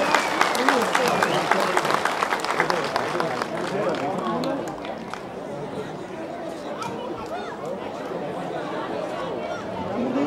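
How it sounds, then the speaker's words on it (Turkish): A festival crowd in Kayabelen applauds, with sharp claps that thin out amid loud chatter and crowd noise, and voices talking throughout. "Bir alkışlayalım hepsini."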